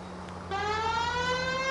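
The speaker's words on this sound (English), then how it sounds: "Oh, that's a siren." A wailing police car siren in the 1940s Los Angeles crime game L.A. Noire rises in sharply after a quiet engine hum, loud and continuous over the driving car.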